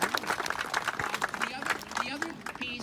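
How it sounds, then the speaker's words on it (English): Audience applause at a community fun run held outdoors in Neepawa, a crowd of moderate size clapping steadily throughout with speech and voices mixed in. "a round of applause to thank them for all the work they've done"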